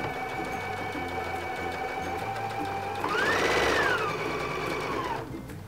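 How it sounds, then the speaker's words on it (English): A sewing machine runs steadily as it stitches along chalk lines on a t-shirt, a continuous close mechanical whir that rises in pitch and speed partway through before stopping. "So go forward a few stitches, make sure you go backwards, and then follow those chalk lines."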